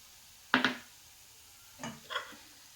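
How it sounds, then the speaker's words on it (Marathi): A spoon stirs sugar into wheat flour roasting in a pan for sheera, giving two short scraping bursts followed by a softer pair a second later, fairly quiet and close. "आता यामध्ये आपण साखर ॲड करणार आहे"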